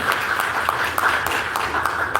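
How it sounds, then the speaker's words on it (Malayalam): An audience gives a round of applause at a talk, a dense patter of many hands with a few sharper individual claps standing out, fairly close and continuous throughout. "അദ്ദേഹത്തിന്റെ ഒരു നല്ലൊരു ക്ലാപ്പ് കൊടുക്കുക."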